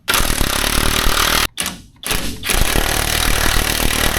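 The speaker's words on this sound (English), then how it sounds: "I got to knock out these two bolts for the sway bar." Hammer blows knocking out sway bar bolts on a 1954 Chevrolet Bel Air front end, loud harsh metallic impacts in rapid bursts with one short pause partway through.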